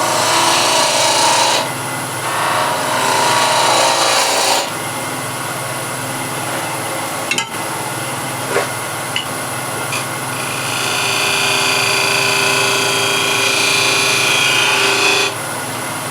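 Spindle gouge cutting and shaping wood turning on a lathe, a continuous close rasping scrape with shifting tone as the cut changes, loud and steady with no talking.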